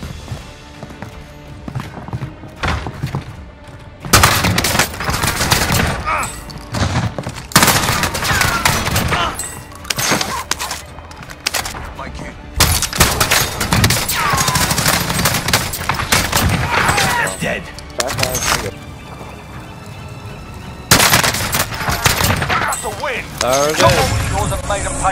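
Bursts of JAK-12 automatic shotgun fire crack loudly and rapidly in a Warzone battle royale match, clustered in dense volleys with short pauses, mixed with game effects and occasional speech.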